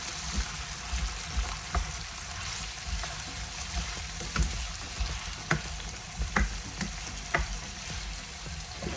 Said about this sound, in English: And saute this vegetable for 2 to 3 minutes